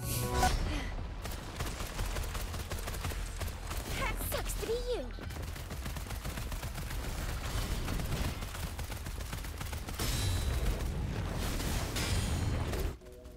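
Chixia's guns fire in rapid, sustained volleys in the video game Wuthering Waves, with continuous clattering shots, occasional booming impacts and a louder flurry near the end, set against game effects.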